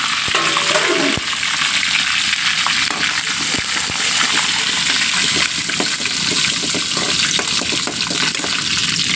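Curry leaves fry in hot oil with a continuous loud crackling sizzle, dense with sharp pops and spatters throughout.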